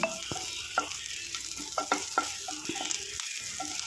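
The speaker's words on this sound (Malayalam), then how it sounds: "അപ്പോൾ ഈ ഉള്ളിയെല്ലാം നല്ലപോലെ ഒന്ന് വഴറ്റിയെടുക്കാം." Small onions and curry leaves sautéing in hot oil for a sardine curry, a close, continuous sizzle punctuated by repeated stirring scrapes and spoon taps, with no talking.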